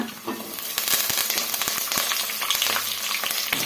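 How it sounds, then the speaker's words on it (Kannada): Green chillies and curry leaves fry in hot oil for a quick flattened-rice dish, giving a steady, close crackling sizzle. Sharp pops and spatters recur irregularly throughout, with no talking. "ಇಷ್ಟು ಫ್ರೈ ಆದಮೇಲೆ ಇವಾಗ ನಾವು ಹಸಿಮೆಣಸಿನ್ಕಾಯಿ, ಕರಿಬೇವು ಸೇರಿಸ್ಕೊಳ್ಳೋಣ."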